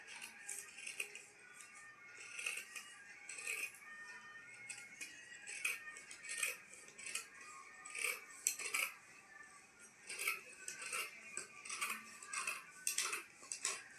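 Scissors snip steadily through frock cloth while cutting cross pieces, making a run of soft, rapid, close metallic clicks and crisp rasps with no talking.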